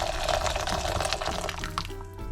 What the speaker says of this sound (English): I'm gonna put 2 cups of boiling water